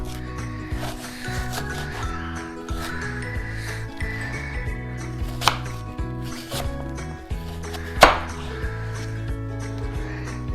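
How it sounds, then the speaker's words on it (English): Knife slicing Granny Smith apples into small pieces, a busy run of soft chopping and rubbing strokes with a couple of sharper cuts standing out near the end. "So we're just gonna cut these into little slices."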